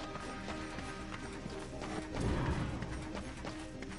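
Horse hooves clip-clop steadily in Darksiders 2, heard beneath game music and mechanical ambience, with a louder thudding burst midway.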